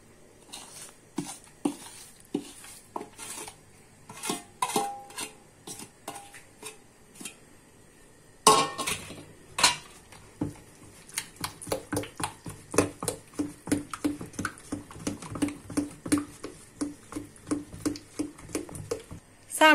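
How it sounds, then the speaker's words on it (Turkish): Garlic is stirred into yogurt in a bowl by hand, with a spoon scraping and tapping the sides in soft, irregular strokes. The strokes grow quicker and steadier in the second half, close and fairly quiet. "Sarımsağımızı yoğurtla karıştırıyoruz."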